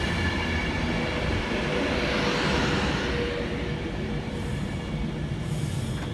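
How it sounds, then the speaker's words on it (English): A Pendolino electric train, unit 390.047, rolls into Wigan North Western station with a loud, steady rumble and rising rail noise that swells and then eases as the train slows alongside the platform. "Arriving now is a Pendolino."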